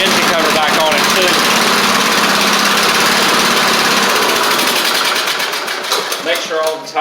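Troy Bilt Bronco riding mower engine running after deck, spindle and drive belt work, a loud, steady, buzzing drone up close that eases and turns slightly uneven near the end.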